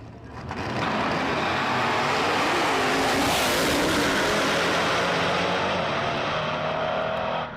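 Stick shift race cars in a drag racing final roar past at full throttle, a loud steady engine blare that swells in quickly and holds, with no talk.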